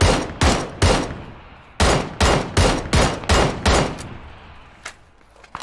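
Gunfire in the video game PUBG: a rapid series of about nine loud, sharp shots in two bursts with short echoing tails, followed by a couple of fainter distant shots.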